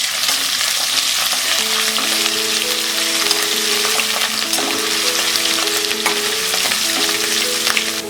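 Cashew nuts with ginger paste sizzle loudly in a pan while being stirred for bread upma, a dense continuous frying hiss with steady scraping, close up and with no talk.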